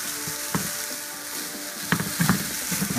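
Seasoned meat frying in a pan, a soft steady sizzle with a few scraping stirs and light clinks of the utensil, no talking.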